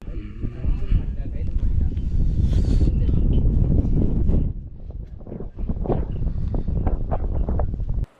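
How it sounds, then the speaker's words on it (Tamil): Strong wind gusts across the summit of Velliangiri mountain near a hilltop shrine, buffeting the microphone in loud roaring bursts that ease after a few seconds and return in rougher gusts. "காற்றோட சத்தத்தை கூர்ந்து கவனிங்களேன் அவ்வளோ பெரிய மலைக்கு மேலே வந்து காற்றடிச்சு"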